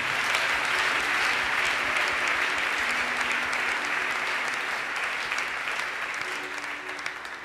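A church congregation applauds the youth department, a dense, steady wash of clapping from many hands that holds evenly for several seconds, with a murmur of voices beneath it.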